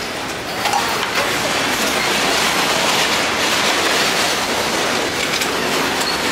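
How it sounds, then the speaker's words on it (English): A freight train rolling past on a track near a station, a loud, continuous rumbling roar of wheels and cars with faint clicking, sustained without a pause. "that was the freight train"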